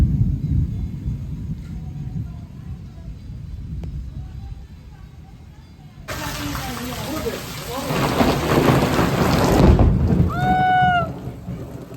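A thunderstorm with steady rain and low rolling thunder, then a sudden loud crash of heavy rain and thunder midway that keeps building, and a short tonal sound near the end.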